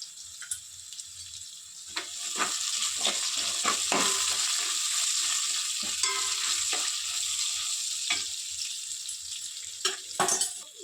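Turmeric tempering for poha frying in a pan, a continuous close sizzle broken by repeated scrapes and knocks of stirring, with no talking.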